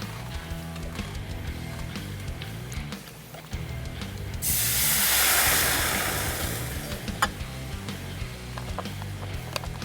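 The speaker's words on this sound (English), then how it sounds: "Let that simmer for a minute." Garlic and vegetable stock simmering in a pan on an induction plate, heard as a soft bubbling hiss that swells into a loud, broad sizzle midway as liquid hits the hot pan, then settles back to a low simmer.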